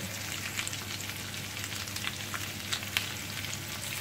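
Beef browns in a hot pan with a steady, close sizzle and crackle that holds throughout, with small pops now and then and no talking.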